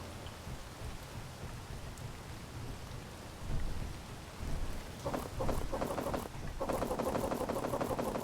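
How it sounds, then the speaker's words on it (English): Steady rain falls in the Space Engineers video game, a broad continuous hiss with low rumbling thunder beneath, growing denser with brighter pattering drops in the second half. "it's raining out here"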